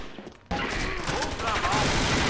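A CZ Scorpion Evo 3 submachine gun with snow camo fires in a Combat Arms capture-the-flag match, rapid automatic shots bursting in loudly after a short lull and continuing steadily.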